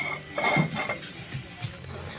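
Ceramic plates clink and knock together as they are handled, a few close, bright contacts over a couple of seconds with no talking.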